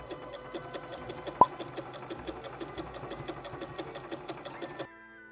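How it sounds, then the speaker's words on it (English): A sewing machine runs an applique stitch along a quilt block with matching thread, a steady rapid ticking rhythm close by and moderately quiet, ending abruptly after about five seconds. "Probably I'm going to use my applique stitch on this machine."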